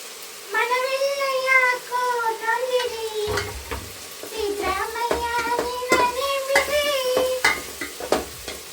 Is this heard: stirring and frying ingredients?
yes